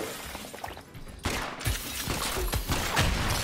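Gunfire in the video game Rubber Bandits, a chaotic burst of rapid shots and impacts that starts after a brief lull and keeps rattling loudly to the end.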